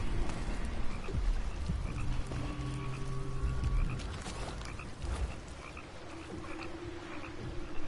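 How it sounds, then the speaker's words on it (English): Frogs in Dishonored 2 croak in a dense, continuous chorus of overlapping calls over a steady ambient wash, with scattered insect-like chirps, loud and unbroken throughout. "Lots of frogs about."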